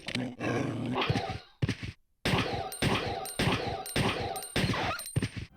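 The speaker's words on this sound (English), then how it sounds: "meet some of Resident Evil's best characters, bloodthirsty dogs" Zombie dogs in Resident Evil Code: Veronica snarl and growl in loud, rough bursts with a short silent gap partway through, mixed with game noise.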